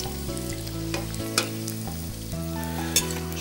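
Potatoes for soufflé potatoes sizzle steadily in a hot frying pan, a continuous close crackle with a few louder pops, while tonal music plays underneath.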